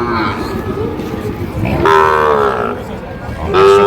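A Sahiwal bull calf of about five to six months moos loudly twice, close by, with a lower grunting call before it and background chatter at a cattle market.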